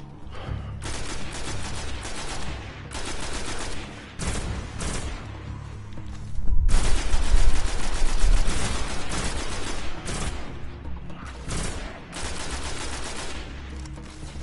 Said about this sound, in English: I'm not sure I actually love the auto rifle very much.